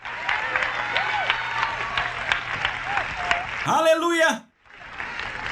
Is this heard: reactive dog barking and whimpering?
no